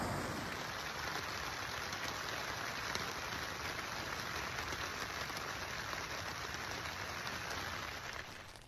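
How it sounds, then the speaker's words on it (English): Steady, dense rain patters down continuously, a broad hiss with soft drops throughout and no voices. "it's been raining the whole time"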